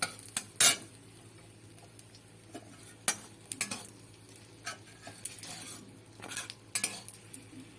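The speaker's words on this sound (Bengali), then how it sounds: "শুকনো লঙ্কাটা ভালো করে ভাজা ভাজা করে নেব।" Two dried red chillies frying in refined oil in a wok, a faint sizzle under sharp metal clinks and scrapes from stirring that come in irregular bursts, with no voices.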